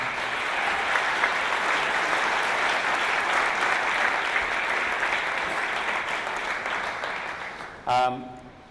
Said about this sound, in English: can we just give everybody a huge round of applause who's coming up?